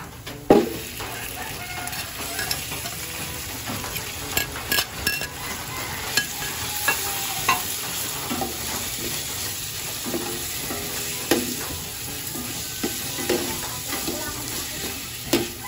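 Chicken sizzles steadily in hot oil while a utensil scrapes and clatters against the pan at irregular intervals, close up.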